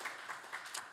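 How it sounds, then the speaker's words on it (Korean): A church congregation applauding during a Sunday worship service, a faint, distant patter of clapping with soft rhythmic bursts filling the room. "박수 주시면 고맙겠습니다."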